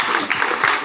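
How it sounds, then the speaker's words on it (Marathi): Loud, dense applause from a crowd at an antakshari singing competition during a Ganeshotsav celebration, with steady clapping filling the whole moment without a break. "एकदा जोरदार टाळ्या"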